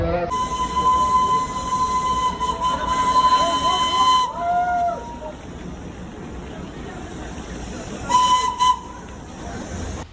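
A Darjeeling steam engine toy train hisses steadily with a long sustained whistle, a lower two-tone whistle blast, then another short whistle burst later, heard close and loud over a constant steam hiss.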